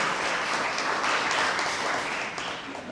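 Sustained applause from an audience honouring a guest speaker at a Gujarati book-talk and youth discussion event, dense steady clapping that holds evenly for the whole stretch with no voices over it.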